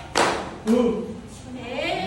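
A school class claps in unison during a teaching practice lesson: two sharp group claps about half a second apart, then voices speaking.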